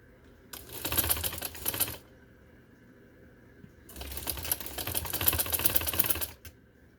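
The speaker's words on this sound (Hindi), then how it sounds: "अब मैं इसको ऊपर सिलाई लगाने लगी हूँ।" A sewing machine stitches the neckline of a black kurti in two close, loud runs, the first short and the second longer, with quiet pauses between them.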